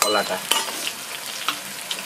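Green banana pieces and fish frying in a pan for a Bengali fish curry, a close, steady sizzle broken by a few sharp bursts as the food is stirred, with no talk.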